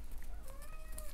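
A house cat gives one drawn-out meow of a second or so, fairly clear and close, against a low indoor hum with no talk.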